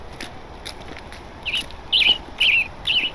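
A toy bird from a gift shop chirping, a few bright electronic tweets in quick bursts that grow louder toward the end, heard close and alone over a quiet room.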